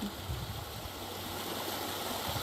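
Steady broadband rush of a small waterfall in a chemical-free home garden, continuous and fairly close, with low rumble underneath and no talking.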